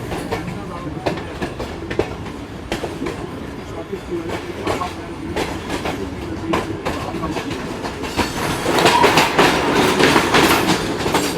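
Karakoram Express train with a new rake racing at high speed between Karachi and Rohri, a steady loud rumble with rhythmic wheel clatter over the rails that grows louder and busier near the end, with faint voices underneath.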